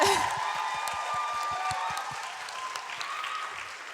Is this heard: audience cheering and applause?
yes